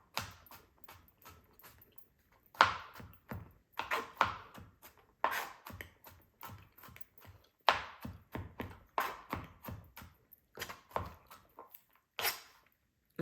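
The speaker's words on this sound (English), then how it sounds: "let's cut up our garlic" Quick, irregular knife taps on a cutting board as garlic is chopped and minced, soft and close, in bursts of several strokes with short pauses in a home kitchen.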